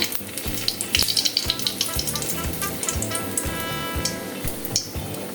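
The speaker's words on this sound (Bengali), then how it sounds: "ফোড়নে দেবো শুকনো লঙ্কা" Dried red chillies sizzle and crackle in hot oil for tempering a home-style chicken do pyaza, a steady close frying hiss with scattered pops and no talk.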